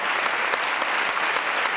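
A studio audience on a French television talk show applauds, a dense, steady patter of many hands clapping at close range throughout.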